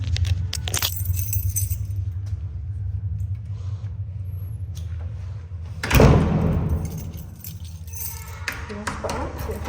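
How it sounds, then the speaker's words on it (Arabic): A set of keys jangles close by while a home's front door is handled and pulled shut, ending in a short latch thump over a low steady rumble. "بس بقى نقفل بقى الباب كده"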